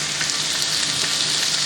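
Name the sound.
chicken sizzling in a pan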